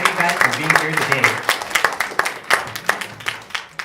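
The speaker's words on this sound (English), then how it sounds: "Can I get a great big round of applause for everyone" An audience at a talk event clapping, a burst of dense hand claps that thins into scattered individual claps, with speech mixed in throughout.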